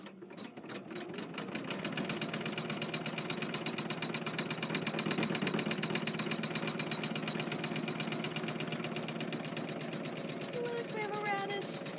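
An embroidery machine runs steadily, stitching step 11 of a Kimberbell radish zipper pouch over foam, with a fast, even needle rhythm close by that keeps going alone for most of the stretch.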